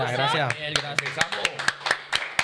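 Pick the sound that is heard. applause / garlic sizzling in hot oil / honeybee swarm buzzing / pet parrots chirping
applause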